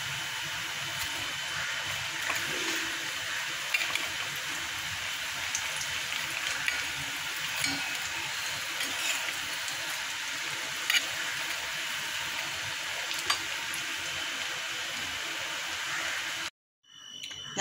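Hinche leaf fritters frying in hot oil after being flipped, a steady, fine crackling sizzle that stays even and close throughout before cutting off abruptly near the end.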